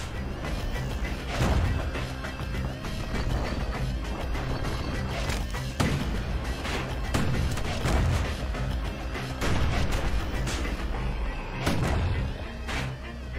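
Loud heavy booms and crashes from cannon fire in the video game Bastion go off repeatedly amid a dense rumbling, clattering din, like a chaotic battle.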